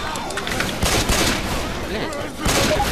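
Rapid gunfire in the zombie co-op video game Left 4 Dead 2, a dense, loud fusillade of close shots running throughout with several sharper bursts, under a busy game soundscape.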